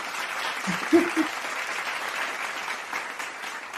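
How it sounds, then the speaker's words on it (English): Continuous applause from a show audience greeting a guest, even and moderately loud, with a brief vocal whoop near the start. "Love the clap."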